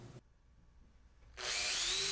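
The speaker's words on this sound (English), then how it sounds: "Pre-drill and countersink the holes for the 6 side pieces." Power drill pre-drilling and countersinking holes in wooden side pieces, a brief quiet lull followed by a loud, close whirring bite into the wood.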